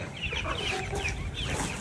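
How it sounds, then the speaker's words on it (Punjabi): A hen clucks close by among her chicks on a farm, short clucks repeating steadily over a busy broadband rustle, with no voices. "ਉਹ ਆਈ ਫੇਰ ਚੂਚਿਆਂ ਮਗਰ।"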